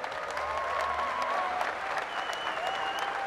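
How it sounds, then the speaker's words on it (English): A large audience applauds an honoree at the 2019 Arnold Strongman Classic, a steady wash of dense clapping that holds evenly throughout, with faint tonal whistles and crowd noise riding on top. "I would like you to give a big round of applause, not only to Dr. Terry, but to all of these people who are here to honor him"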